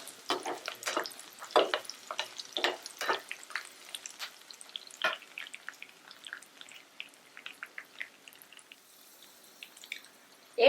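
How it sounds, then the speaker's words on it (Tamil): Ginger and garlic sauté in hot oil for a hotel-style paneer butter masala, with a steady crackling sizzle and repeated scrapes of a stirring spoon against the pan. "இஞ்சி பூண்டு சேர்த்துக்கோங்க. இந்த மாதிரி நல்லா வதக்கி விடுங்க."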